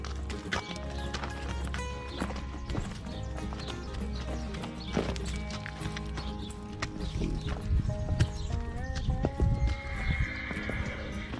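A donkey with long-overgrown, neglected hooves walks along, its hooves clip-clopping in an uneven rhythm close by, with background music playing throughout.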